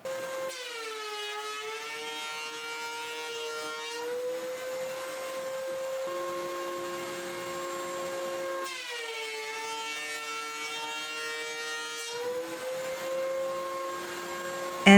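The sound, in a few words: thickness planer planing a wooden dispenser piece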